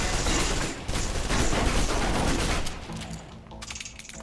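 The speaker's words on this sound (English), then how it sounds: "Move on to the submachine gun. Now let's empty the clip." Submachine gun fire in the video game Alpha Protocol, a dense rapid burst that empties the clip over several seconds, loud and continuous before thinning out near the end.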